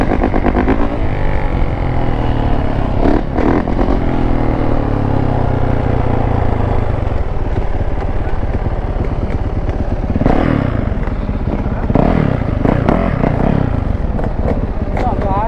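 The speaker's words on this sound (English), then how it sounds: "We got the YZ 250 right here, bro." A Yamaha YZ250 two-stroke dirt bike idles and revs nearby with a raspy, crackling engine note that runs throughout, while people talk over it.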